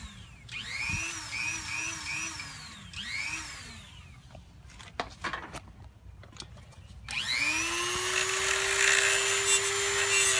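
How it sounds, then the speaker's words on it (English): A Dremel rotary tool grinds metal for a turbo mount, giving a high, close whine that rises and dips in bursts. A clattering pause separates the bursts before a final long, steady run at full speed. "So we're going to try the Dremel first"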